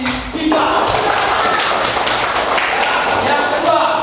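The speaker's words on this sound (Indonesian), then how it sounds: "Oke, tepuk tangan untuk si Diva." Classroom applause for a student named Diva: loud, dense clapping from a group of pupils that starts abruptly and holds steady for several seconds.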